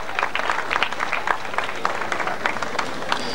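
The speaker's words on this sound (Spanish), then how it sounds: "fuerte el aplauso para Tilio Barrios también" Audience applause at a gaucho festival at an agricultural school, distinct rhythmic claps from a modest crowd, steady and fairly close for the whole stretch.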